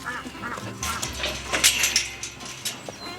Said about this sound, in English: That sounds like the ducks and the chickens are excited to get out.